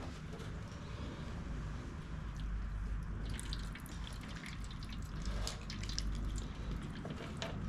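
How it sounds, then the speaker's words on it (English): Water drains out of a Snapper P21500 push mower, a continuous trickling and splashing with scattered drips, steady and fairly close, with no talking. "Agua. Lots and lots of agua. We'll just let it drain, whatever's coming out."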